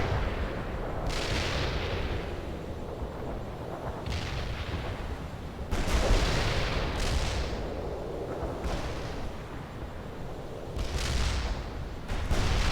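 Mobile mortar artillery in World in Conflict fires a series of heavy booms, roughly five or six deep blasts spaced a couple of seconds apart, each with a rumbling tail over a low battlefield bed.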